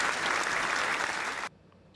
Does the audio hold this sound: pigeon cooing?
no